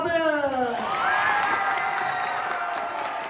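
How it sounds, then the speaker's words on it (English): A school crowd applauds and cheers for a new world champion at a prize day, with steady clapping, whoops and shouts filling the hall; a voice speaks over the opening moments. "Can we all be upstanding and cheer for our new world champion?"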